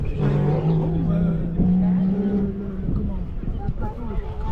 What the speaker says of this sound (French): Gros départ pour la McLaren.